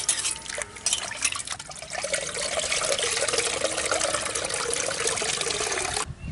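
Tamarind pulp squeezed and dissolved by hand in a bowl of water for a village-style vegetable kuzhambu; continuous close wet sloshing and trickling for several seconds with no talk.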